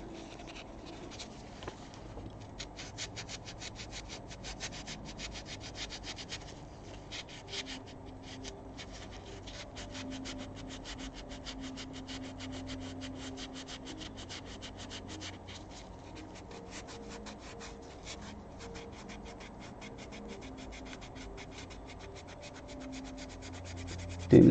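A sanding pad rubs steadily over a 3D-printed part, a close, continuous dry scratching with fast repetitive strokes that runs unbroken for the whole stretch, with no talking over it.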